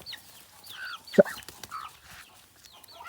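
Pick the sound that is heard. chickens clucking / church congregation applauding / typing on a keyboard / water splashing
chickens clucking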